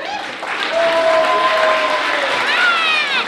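Applause from an audience at a Christmas events gathering, a steady clatter of clapping with cheering and whistle-like tones over it, loud and close throughout.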